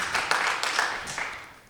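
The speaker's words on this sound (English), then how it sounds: "Round of applause for Aubrey as Sean Steele" Brief audience applause at a poetry concert, a crowd clapping in a room with a few sharper claps standing out, fading away within about two seconds.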